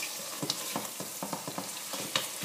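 Lamb frying in a pot with turmeric and black pepper is stirred with a ladle, giving a rhythmic series of close scraping strokes over a steady sizzle, with no voices.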